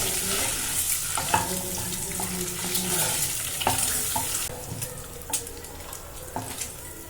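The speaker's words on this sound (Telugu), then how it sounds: "ఇప్పుడు ఈ ఎగ్స్ని కూడా ఫ్రై చేసేస్తుంది" Eggs frying in oil in a pan produce a close, crackling sizzle with irregular spatter pops and occasional utensil knocks, the hiss easing and growing quieter in the second half.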